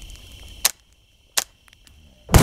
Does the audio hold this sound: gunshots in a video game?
yes